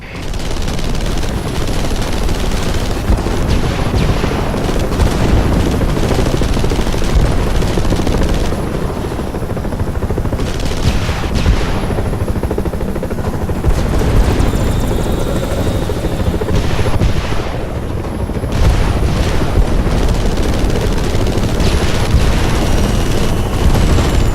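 Helicopter rotors thump loudly and continuously while bursts of rapid gunfire and occasional booms break through the steady roar, in the video game Marlow Briggs.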